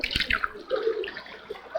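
Water from the fountains in the Alhambra gardens splashes and trickles in a busy, bubbling patter, fairly close and unbroken.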